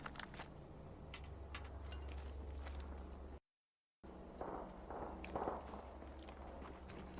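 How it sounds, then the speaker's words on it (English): Footsteps in the video game Apex Legends, a run of soft, repeated steps over a steady low game-ambience hum, broken by a short gap before the steps and background noise return. "Alright, footsteps around. Be careful."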